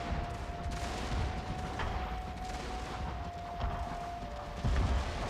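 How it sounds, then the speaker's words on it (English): Musket fire in a Napoleonic-era strategy battle game as infantry fire on Cossacks, a steady crackle of scattered shots and distant booms over a continuous battlefield din, with a heavier thump near the end. "Oh, they're lining up to shoot my Cossacks."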